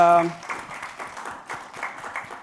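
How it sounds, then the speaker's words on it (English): Audience applause closes a panel discussion on disaster risk reduction and climate resilience: a dense, steady wash of many hands clapping together, moderately loud and fairly close, after a brief tonal sound at the very start. "Please give a round of applause for all our panelists."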